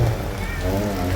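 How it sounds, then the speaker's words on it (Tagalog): Rain falling steadily near a mangrove eco park in San Jose, a dense constant patter on surfaces, loud and close, with some faint voices mixed in. "Pero umuulan kasi."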